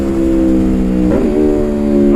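Close, loud engine of an Aprilia RSV4 1100 Factory motorcycle (2019, tuned Tuono-derived V4), with a steady idle-like drone and a brief blip of revving midway before settling back, no talking.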